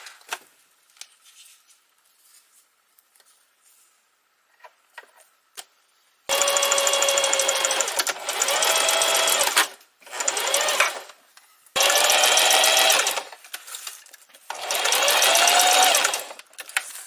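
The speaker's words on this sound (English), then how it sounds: "So I'm going to go ahead and sew each piece." A sewing machine stitches plastic trash pieces for a bike bag, running in four loud, close bursts of rapid whirring separated by short pauses, after quiet handling clicks at the start.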